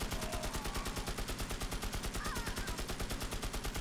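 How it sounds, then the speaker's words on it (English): An M60 machine gun blazes in the video game Magicka, delivering a loud, sustained stream of rapid, evenly spaced automatic shots that runs unbroken for the whole stretch, with no voices. "Slaying innocent civilians with my M60 machine gun"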